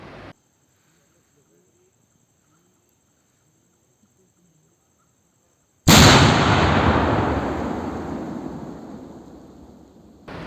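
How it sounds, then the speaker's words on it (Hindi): Controlled detonation of a Naxal bomb in a Bastar forest: quiet stillness is broken by one sudden, powerful distant blast whose roar and debris rumble decay over several seconds. "सुरक्षित तरीके से ब्लास्ट किया गया। ब्लास्ट की वीडियो देखें।"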